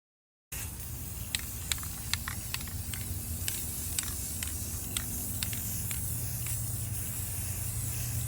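An aerosol can sprays the spines of an old Stampin' Up! paper catalog in a steady, close hiss that starts abruptly and runs unbroken, dotted with faint clicks, with no talking.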